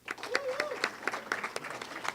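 Scattered applause from a small audience at an esports awards ceremony, a light patter of clapping with a faint voice underneath.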